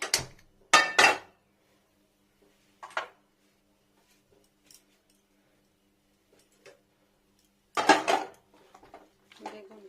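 A few sharp metallic clanks as a pan is set down on the stove, with quiet gaps between them and a longer cluster of knocks near the end.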